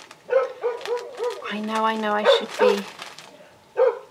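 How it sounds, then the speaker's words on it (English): A dog next door barks a few times, sharp and moderately distant, under and between someone talking. "So apologies about the barking."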